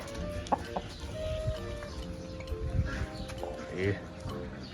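A pet chicken, a fighting-cock type, gives soft scattered clucks close by in a quiet yard, while people talk and chatter around it.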